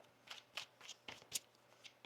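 Quick riffling bursts of tarot cards being shuffled, several short crisp flurries in a row, close and fairly quiet.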